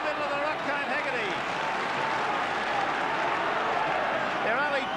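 A large stadium crowd of about 50,000 roars steadily at Old Trafford during a 1986 rugby league match between St Helens and Australia, a continuous dense wash of cheering with a commentator speaking over it.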